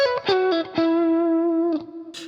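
Electric guitar with the pickup selector in position 4, combining two pickups and running through a boost pedal into an amp: a few quick picked notes, then a long sustained crunchy note and a short strum, loud and close.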